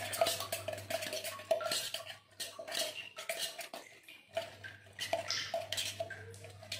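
Minced meat with chopped spring onion and onion being stirred for a martabak filling, with spoon scrapes and clinks against a bowl in an uneven rhythm, close by, with a low steady hum beneath.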